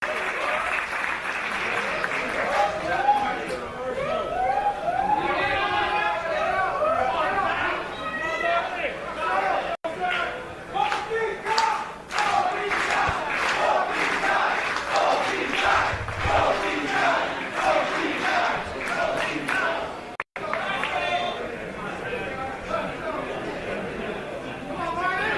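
Professional wrestling crowd at an EVOLVE match applauding and cheering, sustained rolling claps and shouts from a packed audience, with a commentator talking over the noise.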